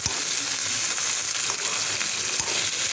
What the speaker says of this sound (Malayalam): തക്കാളി കൂടി ഇട്ടിട്ട് നന്നായിട്ട് ഇളക്കി യോജിപ്പിച്ച് കൊടുക്കാം